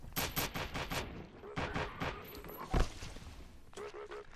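Rapid bursts of gunfire in the space station game SS14, a run of sharp shots followed by scattered single cracks and a final brief volley, loud and close with some lighter background clatter.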